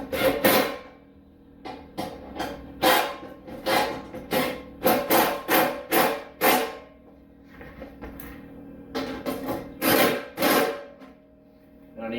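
Power impact gun tightening bolts on the chute of a Bushmaster CH6 6.6HP chipper shredder, a series of short loud rattling bursts with pauses between them, close by and without talk.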